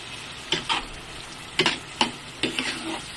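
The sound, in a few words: beef being sautéed in a pan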